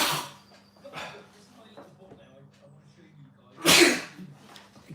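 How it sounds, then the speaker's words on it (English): A single loud, breathy sneeze bursts out near the end, preceded by a quieter sharp intake and some faint sounds, close to the listener. "I'm going to sneeze now."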